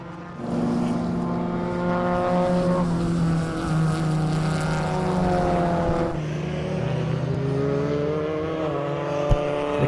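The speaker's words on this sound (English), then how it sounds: "Martin still behind the wheel there of the Pro Auto Rubber Opel Corsa." The Pro Auto Rubber Opel Corsa race car screams past at a circuit endurance race, its engine rising and falling through gear changes over about ten seconds, loud and fairly close.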